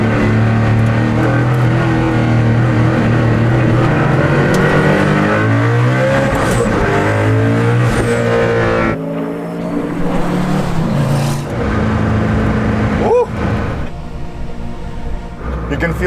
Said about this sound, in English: It's a monster engine in a go-kart.